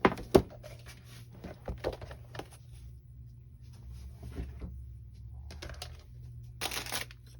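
An Anna Griffin Empress die cut machine cuts paper dies, heard as scattered close clicks, ticks and crinkly mechanical taps over a quiet low hum, with a sharper rustle near the end.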